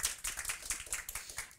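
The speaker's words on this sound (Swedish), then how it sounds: "En applåd!" An audience applauds to welcome a speaker at a talk, a brief, fairly faint patter of many hands clapping in quick, uneven bursts.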